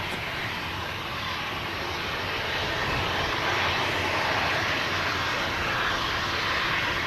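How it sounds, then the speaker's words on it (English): AirX charter plane engines at Manchester Airport roar loud and steady throughout, a close, continuous broadband drone that swells slightly in the second half, with no voices. "Lee Davey saying he's loving the AirX charter planes today"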